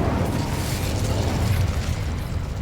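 Incendio fire spell in Hogwarts Legacy, a loud, continuous roaring burst of flame with crackling, mechanical texture that stays sustained and close for a couple of seconds, no talking.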